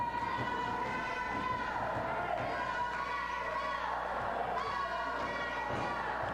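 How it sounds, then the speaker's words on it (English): Crowd at a wrestling showcase, a steady roar of many voices and cheering resembling a high school football crowd, continuous and moderately distant, with occasional thumps and shouts rising out of the din. "can hear the crowd"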